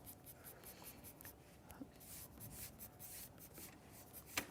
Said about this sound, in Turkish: Ben de şu taraftan balığın renklerin vurmaya çalışırım.